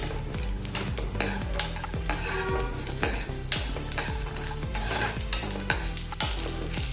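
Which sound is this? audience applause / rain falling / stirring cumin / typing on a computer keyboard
stirring cumin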